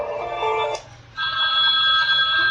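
A QQmee Q30 feature phone plays a ringtone through its loud speaker: a bright melodic tone, a brief pause, then a steady higher-pitched sustained tone, with no talking.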